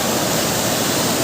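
A waterfall where three rivers meet at a temple ashram near Guwahati, a loud, close, steady rush of falling water filling the whole moment without a break.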